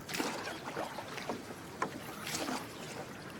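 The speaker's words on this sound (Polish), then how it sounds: "Rybacy odpychają się wiosłami." Fishermen in a rowboat push off from the shore with wooden oars, giving soft, irregular splashes and knocks against steady wind and water noise, with no voices.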